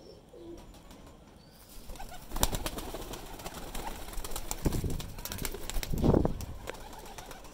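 Pigeons, including baby and breeder birds, coo in a loft, with a couple of sharp louder bursts standing out over a steady close background of cooing and rustling.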